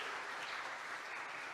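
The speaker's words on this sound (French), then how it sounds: "Sous vos applaudissements, mesdames et messieurs." An audience at a talk show breaks into steady applause, a dense wash of clapping that holds at an even level throughout, heard from within the room with no voices on top.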